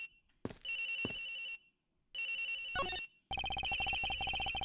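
A phone rings in the Ace Attorney Investigations video game, sounding as repeated electronic ringtone bursts separated by brief silences, clear and prominent with no talk.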